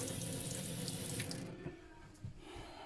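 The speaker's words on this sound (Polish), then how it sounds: "Woda leci." Water runs steadily from a tap into a sink after a home plumbing hookup, a close hissing stream that softens about halfway through, with small knocks and clatters toward the end.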